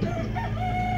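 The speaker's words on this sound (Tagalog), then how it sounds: "Maraming mga manok dito guys, oh." A rooster crows in a brief, nasal, drawn-out call among many chickens near a cemetery in a Philippine barangay, moderately close with a steady background.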